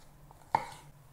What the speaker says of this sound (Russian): И нарезать тонкими слайсами.